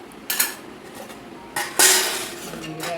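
Household dishes and small metal serving utensils clatter and clink in several sharp bursts against a quiet room background, with one especially loud crash near the end.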